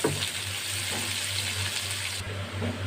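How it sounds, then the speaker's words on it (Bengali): Chopped onions fry in oil, making a continuous close, even sizzle and hiss with no voices and no pauses. "পেঁয়াজগুলো আমি তেলের মধ্যে দিয়ে দেব পেঁয়াজগুলো নেড়ে ছেড়ে লাল করে আমি ভেজে নেব"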